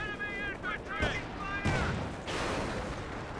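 Rapid gunfire crackles from a Company of Heroes 2 battle, with an MG42-style machine gun ripping in bursts alongside other weapons, loud and dense beneath a talking commentator.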